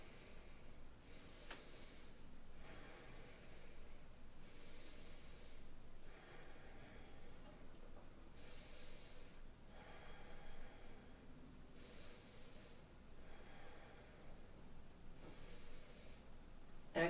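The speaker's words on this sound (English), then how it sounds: "breathing deeply" Deep breathing held during a yoga pose, slow rhythmic inhales and exhales repeating about every two seconds, close and soft, with faint rustling.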